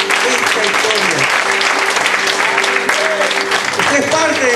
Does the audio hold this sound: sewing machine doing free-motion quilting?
no